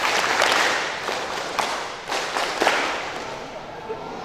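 A group of students claps hands along to a clapping song at a school student council event, several sharp claps standing out over a dense, steady wash of sound that fills the whole stretch.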